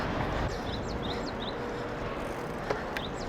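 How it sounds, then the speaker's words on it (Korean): Small birds chirp and tweet intermittently along a countryside bike path on the east coast of Korea, faint high calls over a steady outdoor background hiss with a soft insect-like buzz. "새소리 너무 예쁜 거 아니야?"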